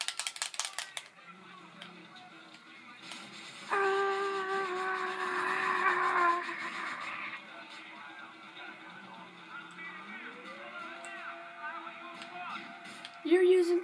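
A car driving in a video game, its engine rising in a steady drone through the middle of the clip and then climbing in pitch as it accelerates, with some clattering game effects at the start and end.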